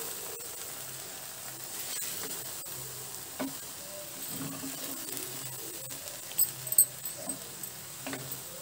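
Rayalaseema uggani is stirred in a pan, soft scraping and sizzling strokes sounding faint and close, with a few sharper clinks near the end and no talking.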